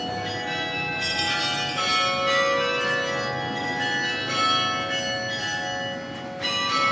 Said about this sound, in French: Et il y a une grande cloche juste sur la gauche, et en fait, il faut tirer dessus.